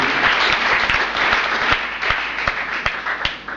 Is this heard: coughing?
no